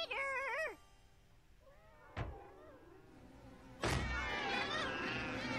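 Several cartoon cats in a My Little Pony episode meow in bright, wavering cries, a short cluster near the start, then a sharp thump, and a louder, denser burst of overlapping yowls toward the end.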